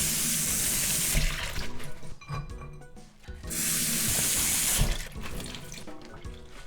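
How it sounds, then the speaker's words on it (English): Running tap water splashing over vegetables being washed in a kitchen sink for Korean namul, loud close gushing in two bursts with a brief pause of handling clatter between them. "Then we're gonna go wash these very quickly."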